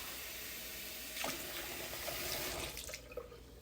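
Water running from a tap into a short drinking glass, a faint background hiss that swells into a brighter splashing pour near the middle, then tapers as the flow stops.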